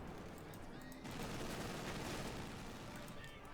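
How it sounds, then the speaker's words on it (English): A machine gun fires in the video game Company of Heroes 2, with dense, rapid bursts of battle gunfire rolling continuously and a heavier crackle of shots joining partway through. "Machine gun hosing away there."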